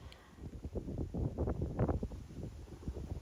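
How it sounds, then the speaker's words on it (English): Gusty wind blows through trees and buffets the microphone in a low, uneven roar, swelling and easing, with faint rustling beneath. "look how like windy it is. The trees are nearly blowing down there"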